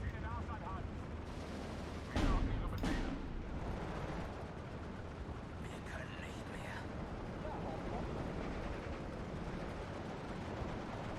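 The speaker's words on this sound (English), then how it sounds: "My commandant constantly under mortar fire." Distant mortar blasts and bursts of MG34 machine gun fire rumble in the Steel Division 2 wartime battle game, with two sharp impacts early and ongoing muffled gunfire under a speaking voice.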